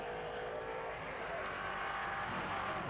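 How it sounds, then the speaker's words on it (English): A Morgan race car with a 4-litre V8 roars up the Shelsley Walsh hillclimb under hard acceleration. The engine drones loud and steady throughout, with no one speaking. "Squeezing every ounce of power out of the 4-litre V8 engine, he accelerates up towards the S's"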